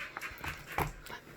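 An excited puppy pants quickly and lets out a few short whimpers and yips close by, in a brief burst with no talking.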